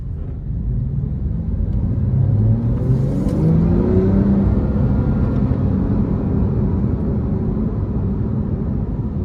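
A 2018 Porsche 911 Carrera 4S with its 3.0-litre twin-turbo engine pulls hard, a loud, close, rising growl of climbing revs that swells and holds steady over several seconds, heard from inside the car with no one talking.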